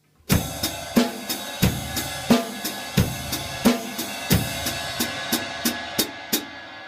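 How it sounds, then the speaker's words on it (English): A drum kit plays a steady 8th-note rhythm on the ride cymbal with kick and snare hits, crisp and close, repeating evenly with no voices. "I'm going to play an 8th note rhythm on the ride cymbal"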